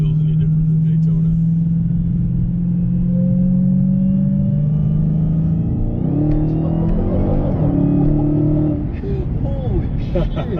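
A 2016 Dodge Challenger SRT Hellcat on drag radials rumbles loudly from inside the cabin as its engine climbs steadily in pitch, shifts, and surges again, with people talking over the drone.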